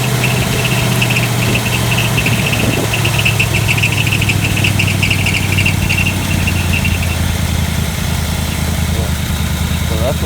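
A Studebaker engine runs by itself on old, bad gas, idling steadily with a low, uneven hum and some knocking. It struggles to rev up and stays loud and continuous throughout.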